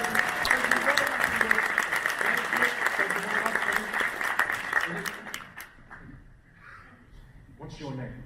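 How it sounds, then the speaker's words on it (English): An audience at a live stage show claps for a volunteer invited on stage, with dense sustained applause for about five seconds that then fades away, and a voice speaking near the end. "Can we give her a big round of applause?"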